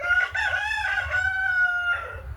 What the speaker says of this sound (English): I'll wait for the roosters to shut up